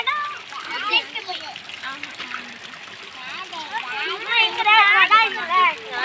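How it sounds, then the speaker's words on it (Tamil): Children splash and play in water filling a village tank from a pump, with steady running water and close splashes under lively children's chatter and shouts throughout. "செம்மையாக தண்ணி ஓடிட்டுருக்கு."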